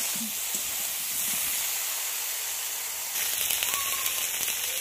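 Eggplant and potatoes fry in oil in a pan, a steady, close sizzling hiss with faint pops, continuous and without talk.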